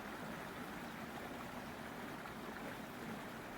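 A creek flows steadily, a constant broadband rush of running water with no breaks, moderately close and alone without voices.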